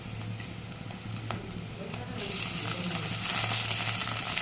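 Mustard seeds, onion, green chilli and curry leaves sizzle in a hot tempering with prawns frying, giving a steady close hiss that brightens and grows louder partway through, with a low hum underneath.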